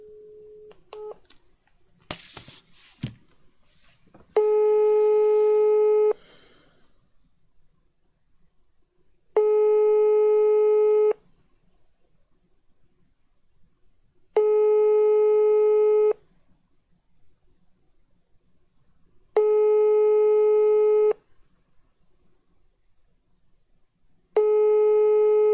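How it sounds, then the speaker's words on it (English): Telephone busy signal on a direct call, a steady pulsing tone repeating in five even bursts of about two seconds each with quiet gaps between, preceded by brief handset clicks and dialing noise. "Let me call direct on the phone."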